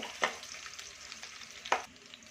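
Chopped ginger frying in oil for mango chitranna, a soft steady sizzle with two distinct spoon scrapes against the pan, fairly quiet and close.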